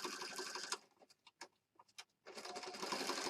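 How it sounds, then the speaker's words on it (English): Sewing machine stitching around the edge of a handmade junk journal embellishment, running in rapid bursts with a stop-start stretch of short stitches in the middle, close and fairly loud. "I think I'm going to stitch."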